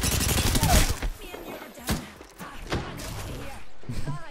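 Gunfire in a shooter video game: a handful of sharp, separate shots and thuds at moderate loudness, with faint talk in the background.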